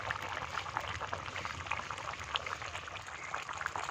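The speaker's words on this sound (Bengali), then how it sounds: "ঝোলটা ফুটে উঠেছে" Fish curry (macher jhol) with cauliflower bubbles at a steady boil in a pot over a village cooking fire, a continuous close, dense simmering hiss and bubbling with no talk.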